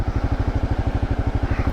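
A 2024 Kawasaki KLR 650 motorcycle engine pulses in a fast, even low thump while the bike brakes down a steep off-road hill, close and steady for a brief moment.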